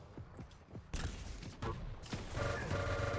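Rocket launcher fire in a competitive Quake match, with sharp booming blasts and explosions landing about a second apart over the game's mechanical background.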